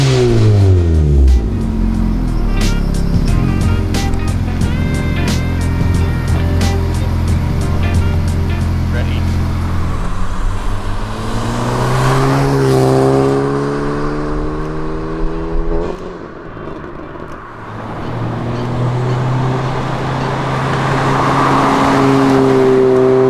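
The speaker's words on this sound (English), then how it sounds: "Just got back from doing the AFE exhaust out on the road." A 10th-generation Honda Civic fitted with an AFE aftermarket exhaust drives on the road, its engine droning loudly and rising through several rev sweeps as it accelerates and shifts, with a brief dip before steady cruising.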